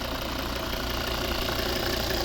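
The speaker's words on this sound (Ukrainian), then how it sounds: "Ось він, знаменитий п'ятициліндровий вольвовський двигун, мільйонник." A 2015 Volvo V70 2.4 D5 five-cylinder diesel idles nearby with automatic transmission, a steady, even rumbling drone with a fine clattering texture and no breaks.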